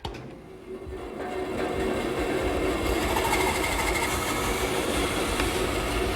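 A power saw cuts an inside radius through a wooden board for a garden gate, a steady, loud, continuous whine and rumble that builds up within the first second and holds evenly to the end.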